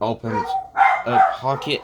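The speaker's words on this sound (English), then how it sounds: "Sorry about that barking." A dog barks sharply several times, fairly close, while a person keeps talking over it.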